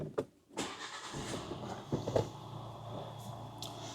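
A Nissan car engine cranks and catches after a brief click, then settles into a low steady idle rumble nearby.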